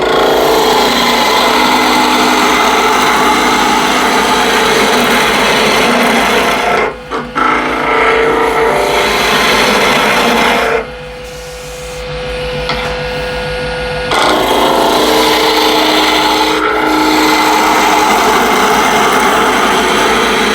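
A wood lathe spins up to about 2000 RPM during woodturning, with a steady loud motor whine and scraping and rasping from the tool on the spinning wood. The cutting stops briefly partway through, and no voices are heard.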